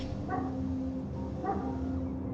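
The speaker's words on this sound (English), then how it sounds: "Hello, friendly neighborhood dog." Two short, faint dog barks about a second apart sit low under a steady game background hum, with the dog fairly distant.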